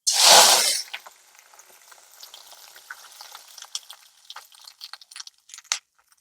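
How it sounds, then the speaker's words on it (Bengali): Water poured into a hot pan over a nigella seed tempering for a mustard hilsa curry bursts into a loud hissing sizzle, then quickly fades to a faint, scattered crackle with small pops. "এবারে আমি দিয়ে দেব জল।"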